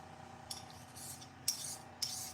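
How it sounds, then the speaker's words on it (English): A small pink sharpening stone rubbed along a scissor blade to flip the burr, three or four quiet, short rasping strokes close by over a faint steady background hum. "with my little pink stone, I flip that burr up"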